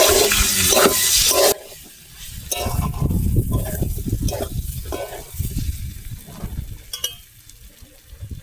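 A curry cooking in a pan gets stirred with scraping, wet squelching strokes over a loud steady sizzle that drops away abruptly, and the stirring continues in irregular bursts.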